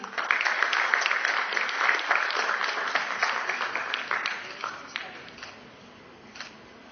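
An audience at a college graduation ceremony claps for the graduates: dense, steady applause with crisp individual claps that gradually thins and fades toward quiet, with no voices over it.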